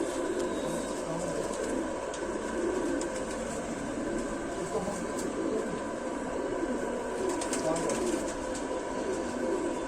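Low, throaty cooing comes from a Rampuri-line pigeon and its loft mates, repeated rounds rising and falling over a constant ambient hum, with indistinct voices murmuring faintly in the background.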